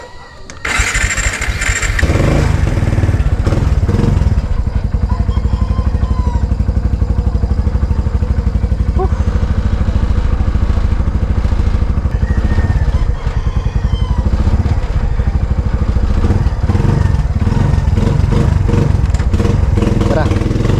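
A motorcycle engine starts and then idles loudly and steadily as it warms up, a continuous rough, clattering drone close by from start to finish.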